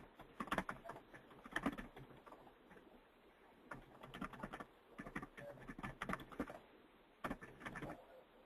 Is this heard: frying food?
no